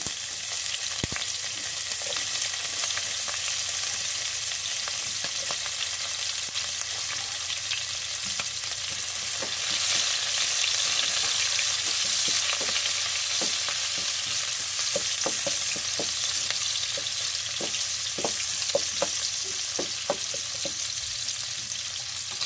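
Onions drop into hot oil in a pan for a bottle gourd and pork sauté, a dense, even hiss of frying that continues steadily and close, with light stirring taps scattered through it.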